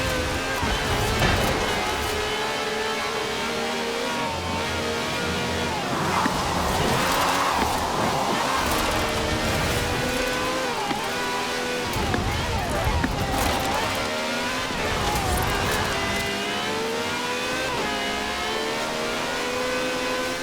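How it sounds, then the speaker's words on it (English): A V12 engine with over 750 horsepower powers a wide-body cab car in Forza Horizon 4, revving and accelerating steadily throughout while someone talks over it. "This has a V12 with over 750 horsepower"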